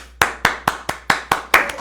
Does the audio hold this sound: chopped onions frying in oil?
no